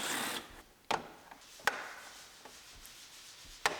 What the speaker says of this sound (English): Pop it out of the clips under the headlight.